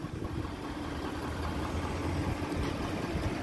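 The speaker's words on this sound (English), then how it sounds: "This one does have the diesel engine." Diesel engine of a 2020 Ford F350 Platinum four-wheel-drive pickup idling nearby, a steady low rumbling drone with an even throb and no speech over it.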